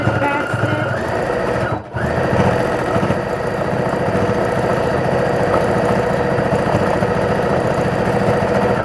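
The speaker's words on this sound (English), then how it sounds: "you're going to just do regular straight stitching, just like how we've been doing it this whole time" A sewing machine does straight stitching on a bag pocket, running loud and continuous at close range with a brief stop near the start, its whirring motor dominating throughout.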